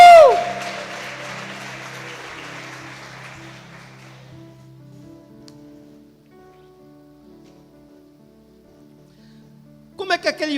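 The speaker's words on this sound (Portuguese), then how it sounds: "Você pode dar um aplauso ao Senhor Jesus?" A church congregation at a conference applauds, the clapping loud at first and then thinning and fading over a few seconds over sustained background music. Near the end a voice begins to speak.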